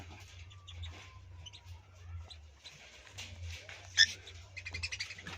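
Cockatiels, a black pair and a white lutino pair, give scattered faint chirps and short calls in a quiet room, with one sharper call near the end.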